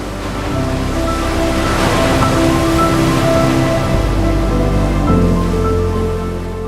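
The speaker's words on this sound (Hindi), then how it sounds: "Look at this waterfall" Jang Falls, a big waterfall in Arunachal Pradesh, roars steadily as a dense, even wash of falling water, heard alone at a fairly loud, unchanging level with a low hum running beneath.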